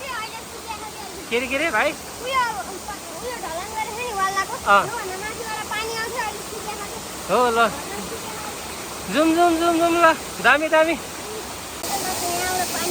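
Steady rush of Simba Falls, a waterfall at Manikhel in South Lalitpur, forms a constant hiss beneath several people chatting nearby throughout.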